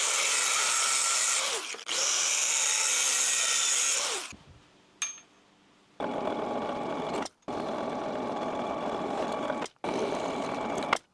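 A length of aluminium angle is cut with a power saw, giving a loud, steady high-pitched whining buzz in several long passes broken by brief pauses, with one short quiet gap partway through.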